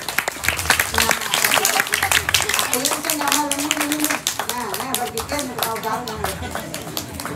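Lively clapping and applause from an audience at a comedic Balinese temple performance, rhythmic and close, with people talking and laughing over it throughout.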